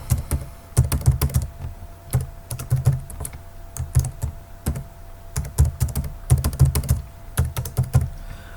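Someone types a password on a computer keyboard, close, crisp key clicks arriving in quick clusters with short pauses between them, and no voices.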